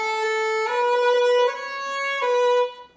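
A bowed string instrument plays a short slurred phrase from the tune Smooth Sailing, several smooth connected notes changing pitch without breaks, clear and close with no talking.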